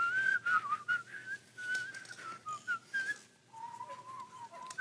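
Someone whistles a melody in short, wavering phrases, close and fairly clear, with breathy gaps between notes.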